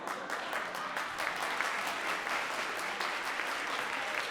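Pageant audience at a homecoming royalty pageant clapping in unison, a steady run of roughly ten sharp synchronized claps from the crowd.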